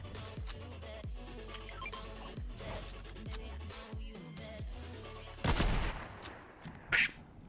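Gunfire in the Fortnite battle royale game, a run of faint, repeated shots with a louder burst near the end, heard without talk.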